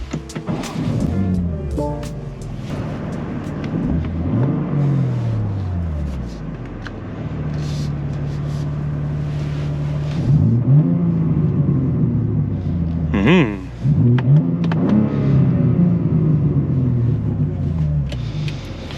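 A BMW G87 M2 engine rumbles and revs repeatedly from inside the cabin, the engine note partly fed through the car's speakers, with rises and falls in pitch and occasional talk between pulls.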